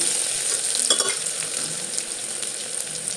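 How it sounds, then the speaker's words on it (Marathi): Sliced onion sautés with whole spices over a medium gas flame, giving a continuous bright sizzle with a brief louder flare of crackle near the start of stirring; no talking. "एक वाटी भरून उभा चिरलेला कांदा घातलेला आहे आणि हे सर्व साहित्य मध्यम गॅसवरती चांगले परतवून घ्यायचे आहे"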